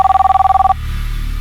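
A telephone rings with an incoming call in a police station scene from a crime drama, a clear, loud warbling bell that pulses rapidly for under a second and then cuts off into quiet room tone.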